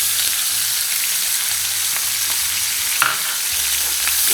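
Onions frying in a pot for chicken cacciatore give off a steady, close sizzle with soft crackling throughout, with a brief stir noise partway through and no talking.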